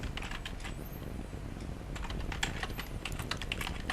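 Steady typing on a computer keyboard while writing PHP code, a quiet, even stream of closely spaced key clicks with no voices.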